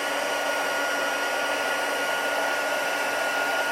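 A heat tool blows a constant, loud, steady stream of hot air onto silver foil cardstock, with a flat whooshing hum and no voices.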